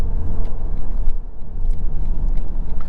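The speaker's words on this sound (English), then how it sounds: "See, the gas engine will kick in." Engine rumble from a 2023 BMW 530e RWD plug-in hybrid as its gasoline engine starts up in hybrid mode, a steady low, loud drone heard from inside the cabin with no talking.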